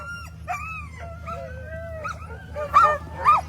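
Several sled dogs at the start of the Willow 300 mid-distance race yip, whine and howl in overlapping high calls, with a couple of sharper barks near the end over a low engine-like rumble.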